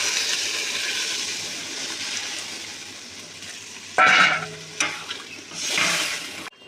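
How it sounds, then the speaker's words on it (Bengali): Water poured into a spice masala that has been frying in oil for a fig kofta curry, giving a sudden loud splash and hiss at the midpoint. Brief stirring follows, then a swelling sizzle over a steady background of frying. "মশলাটা তেল ছেড়ে দিয়েছে, আমি এবার জল দিয়ে দিলাম।"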